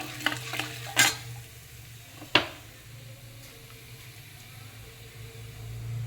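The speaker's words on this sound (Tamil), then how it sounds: "இந்த முழு உளுந்தம்பருப்பு கொஞ்சம் நல்லா செவக்க" Whole urad dal fries with a piece of asafoetida in a pan, giving a soft, steady sizzle close by, broken by a few sharp clinks of a spoon stirring against the pan.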